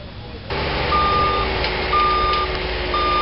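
Construction machinery, a Bobcat loader and a track hoe, working on a gabion trail washout repair, with engine rumble throughout and a steady reversing beep repeating about once a second, loud and close.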